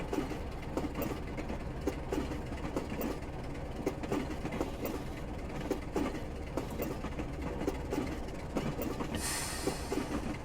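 Class 27 diesel locomotive rolling downhill on a 1 in 59 gradient between Ardlui and Fort William in Train Simulator Classic, with steady rail rumble, rhythmic wheel clicks over joints and a brief hiss near the end.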